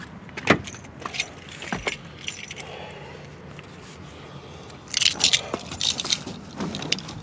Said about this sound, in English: get my keys out of here